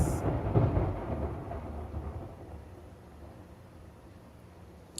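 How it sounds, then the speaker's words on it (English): Thunder rumbling in a deep, rolling wave that starts loud and slowly fades over several seconds into a faint hiss, with no voices. "This don't sound like no damn natural thunder."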